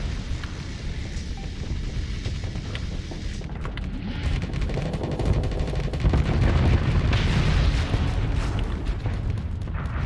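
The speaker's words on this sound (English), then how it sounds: "The explosion took out another ship." Spaceship explosions in the space combat game Starsector make a dense, continuous roar of booms and blasts. The sound is loud throughout and swells stronger in the second half, with no talk.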